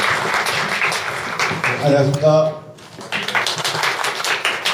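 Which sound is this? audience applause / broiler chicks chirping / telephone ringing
audience applause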